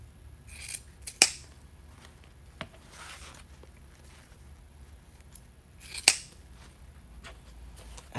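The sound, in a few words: scissors trimming a Christmas wreath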